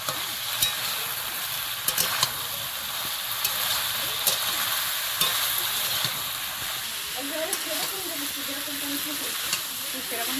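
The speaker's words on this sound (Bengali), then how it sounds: "নাড়াচাড়া করে এবার এর মধ্যে মাংসটা দিয়ে দেবো" Fried chicken pakoras stirred in a frying pan of sauce for chilli chicken: a loud, steady sizzle and hiss with intermittent scraping and clinking of the spoon against the pan, heard up close, with some faint speech.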